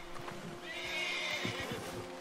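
A horse whinnies clearly and fairly close in a snowy Wild West game setting, the drawn-out neigh rising over a couple of soft hoof thuds and a low background hum.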